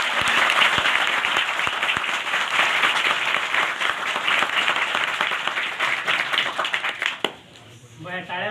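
Loud, dense applause for two Akot city police officers fills a hall steadily for about seven seconds, then breaks off abruptly as a voice begins speaking over a quieter room.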